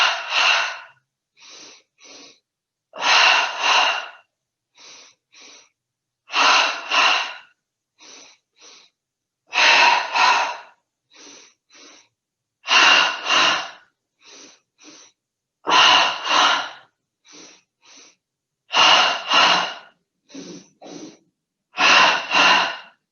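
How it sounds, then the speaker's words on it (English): Double inhalations through the nose during a yoga breathing exercise for sports recovery, in ten evenly spaced rounds of two quick sniffs each, with shorter breath sounds between them, close and fairly loud, with no talking. "second round, 10 double breaths, starting breathing in through the nose twice"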